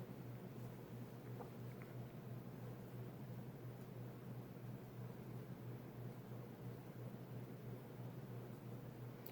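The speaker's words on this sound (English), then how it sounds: "Goes pretty fast, and airflow is really good, as expected from a big cast iron motor like that." A Montgomery Wards Evergo ornate 52-inch ceiling fan with a big cast iron motor runs steadily at high speed, a faint, even low hum and airy whoosh with no talk.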